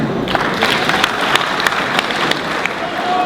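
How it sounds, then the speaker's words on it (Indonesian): Audience applause at a political debate convention in Ambon, steady dense clapping from a crowd throughout, fairly loud and close. "Tepuk tangan."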